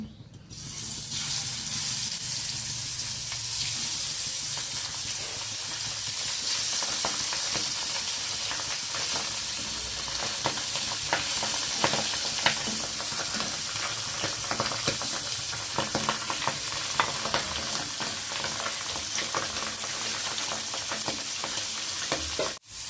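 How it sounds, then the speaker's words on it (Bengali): Pabda fish frying in hot mustard oil, a loud, steady close-up sizzle with crackling spits that runs unbroken for over twenty seconds. "তেলটা গরম করে মাছ দিয়ে দিচ্ছি"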